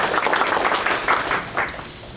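An audience at a Korean policy debate forum claps to welcome a panelist to the podium: dense, sustained applause from many hands, moderately loud, slowly tapering off.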